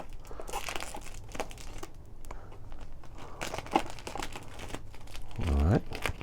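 Plastic cover being removed from a Niche Duo 83mm flat burr grinder, producing crinkling and rustling close up in short bursts, while a person talks over it.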